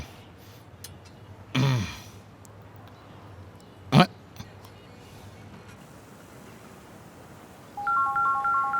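A phone ringtone sounds near the end as a short repeating electronic melody, following a quiet stretch with a couple of brief throat-clearing or vocal bursts, in a Bhojpuri movie scene.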